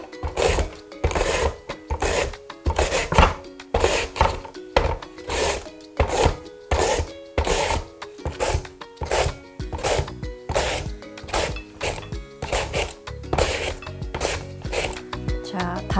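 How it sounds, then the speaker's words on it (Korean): Radish being julienned on a mandoline slicer, a steady rhythmic series of scraping, clacking strokes repeating about twice a second for the whole stretch, close and busy with faint background sound. "훨씬 더 편하시니까 채칼을 이용해서 썰어 보도록 하겠습니다."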